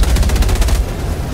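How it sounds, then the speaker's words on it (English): Loud, dense barrage of explosions and rapid blasts from artillery strikes in the video game Helldivers 2, pounding steadily for about a second before easing into a lower rumble. "The fucking artillery!"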